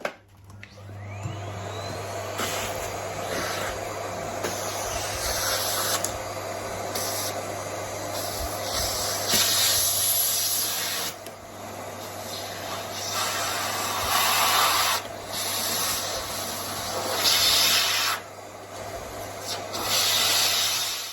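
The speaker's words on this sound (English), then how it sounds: "while I've got my vacuum cleaner out" A vacuum cleaner running close by with a steady whine, its pitch shifting as it sucks up oats and small crumbs from an AGA cooker.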